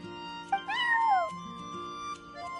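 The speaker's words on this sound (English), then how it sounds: "I'm sorry, that's my neighbor's cat." A cat in Genshin Impact gives a single drawn-out meow, rising then sliding down, close and clear against a quiet background.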